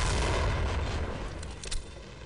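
A grenade detonates in the Half-Life: Echoes video game, a loud, close, rumbling blast that fades slowly over about two seconds.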